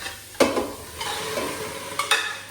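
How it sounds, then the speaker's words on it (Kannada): Boiled dal, tomato and onion being added to a pot and stirred. Close scraping stirs come in separate strokes under a soft sizzle, with a few sharper clatters of the utensil against the pot. "ಆಮೇಲೆ ಬೇಳೆ, ಟೊಮೊಟೊ, ಈರುಳ್ಳಿನ ಕುದಿಸ್ಕೊಂಡಿದ್ದೀನಲ್ಲ ಅದನ್ನು ಹಾಕ್ತಾ ಇದ್ದೀನಿ"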